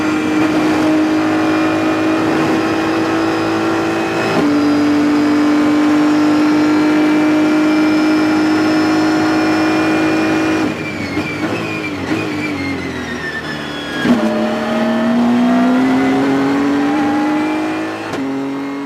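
Race car engine at Road America, screaming at high revs from inside the car, holding a loud steady whine, then dropping sharply at a gear change and climbing again through a shift, constant and close.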